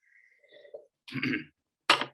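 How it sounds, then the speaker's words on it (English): A couple of rough, close coughs with a throaty clearing sound, separated by short silences. "Excuse me for my cough."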